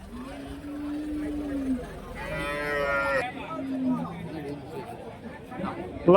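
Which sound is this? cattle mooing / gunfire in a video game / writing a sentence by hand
cattle mooing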